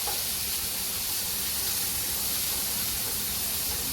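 Tomato hits a hot pan while magi noodles are being made, setting off a loud, steady, broadband hiss that stays even throughout.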